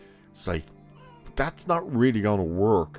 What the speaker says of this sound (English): I don't know if you heard that. That was the cat.